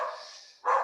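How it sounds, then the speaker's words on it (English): A dog barks in the background, two short barks with a brief gap between them, moderately loud with no talk over them. "Excuse my dog in the background."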